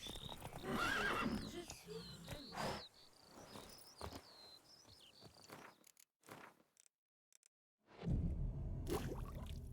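A horse in The Witcher 3 whinnies loudly up close, then hooves and chirping crickets follow, fading to near silence before another burst of game sound returns at the end; voices are heard.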